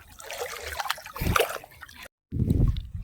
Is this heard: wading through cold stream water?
yes